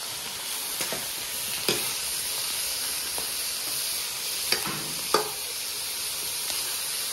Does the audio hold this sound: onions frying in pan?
yes